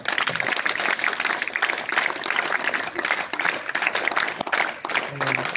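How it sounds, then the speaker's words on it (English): An audience at a Navodaya school alumni celebration in Nizamabad claps to thank the hosts, a dense, sustained round of applause at steady loudness for several seconds. "please thank them by clap"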